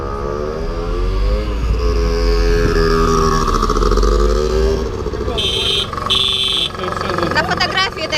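Scooter horn honking in two short bright beeps near the end, over a loud running scooter engine and voices talking nearby.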